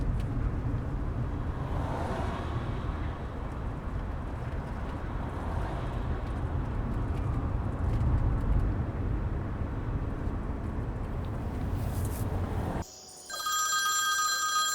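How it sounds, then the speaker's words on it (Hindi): A phone rings repeatedly in a dim room, a buzzing trill over low rumbling background noise, before cutting off near the end as a brief electronic tone sounds. "नाजली का फोन है।"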